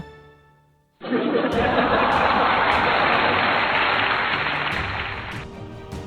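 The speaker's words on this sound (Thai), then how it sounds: "เสียงเฮลั่นโห่ร้องอย่างบ้าคลั่ง" A crowd bursts into wild cheering and shouting after a moment of quiet, a dense sustained roar of many voices with whoops and laughter-like yells, slowly easing off toward the end.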